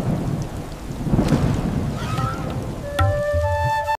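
Steady rain hisses over a farm field while low thunder rolls through in broad surges, followed near the end by a sharp crack and a few brief tonal sounds.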